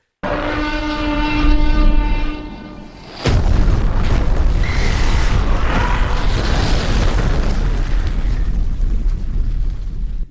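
Huge asteroid-impact explosion in an AI-generated Sora 2 scene: a sustained tonal roar breaks into a sudden deep boom, followed by a long, loud, dense rumble that fills the rest of the clip.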